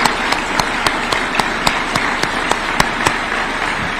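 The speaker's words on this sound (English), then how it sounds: "Can we clap for Rose, please, if she's there?" Audience applause at a State House award ceremony for the President's Award, a dense wash of clapping running steadily throughout with sharper individual claps standing out, moderately loud and without talk.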